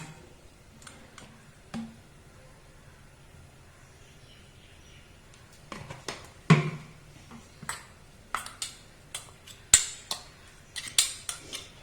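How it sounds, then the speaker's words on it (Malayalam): Spoon clinks and scrapes against a bowl as ground red coconut chutney is stirred with coconut oil, faint and sparse at first, then a quicker run of sharp metallic taps and scrapes close by. "നമുക്ക് കുറച്ച് വെളിച്ചെണ്ണ ഇതിൽ ഒഴിച്ചിട്ട് ഒന്ന് മിക്സ് ചെയ്യാം"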